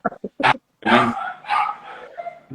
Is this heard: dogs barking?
yes